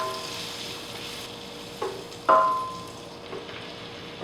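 Vegan chicken cooks in a covered pan, giving off a faint, steady sizzle with a couple of soft clinks and knocks, quiet and close with no talking.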